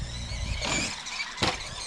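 A Linxtech 16889 1/16 scale RC monster truck drives in short bursts, its small electric motor whining and squealing with a sharp surge near the end, close and fairly loud with no talking.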